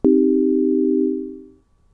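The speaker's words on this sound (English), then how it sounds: "because it's such a simple sound. It's a sine wave." A steady, pure synthesizer sine wave tone sounds for about a second and a half, then fades out smoothly, with nothing else around it.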